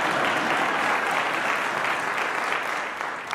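Town hall crowd in Seattle applauding, a dense, steady wash of many hands clapping close and loud, fading slightly toward the end with no talk over it.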